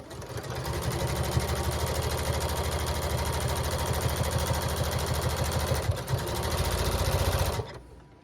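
A sewing machine runs steadily stitching raw-edge appliqué on Halloween fabric, a close, continuous rapid mechanical whir with fine needle clatter that carries on for several seconds, then stops abruptly near the end.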